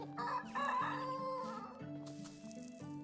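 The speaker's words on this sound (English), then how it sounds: "Oh god, did I just kill a chicken?" A chicken clucks and squawks at a farm coop in Medieval Dynasty, several agitated calls over a steady game music backdrop, with no voices.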